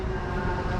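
An MRT train rumbles past at Kota Raya in Kuala Lumpur, a steady loud roar with no pause and no voices.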